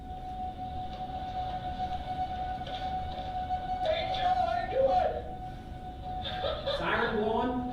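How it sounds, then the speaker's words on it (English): A steady tornado warning siren tone holds throughout beneath background noise, with people talking and chuckling over it in the latter half. "Siren blowing."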